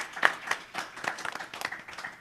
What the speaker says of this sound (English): shall we applaud the teachers and the people who came and sat here and listened to us?